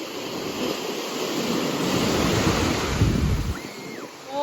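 Steady rushing of river water at a bathing spot, a broad continuous wash with wind buffeting the microphone, loud and close, with no voices.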